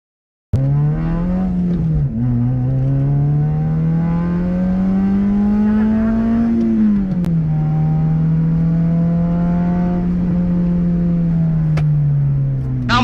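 A modified Honda Civic with a loud aftermarket exhaust bursts into a deep, close engine roar after a brief silence, climbing and easing through a few revs at a strong, sustained volume.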